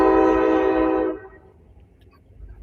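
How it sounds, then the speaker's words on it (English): A subway train sounds a loud, sustained horn blast for about a second, then its rumble fades into a low, distant hum with no one talking. "that's the subway."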